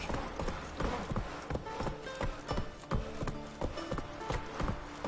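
Roach, Geralt's horse in The Witcher 3, clip-clops along at a steady trotting rhythm, hooves close and distinct over low ambient background.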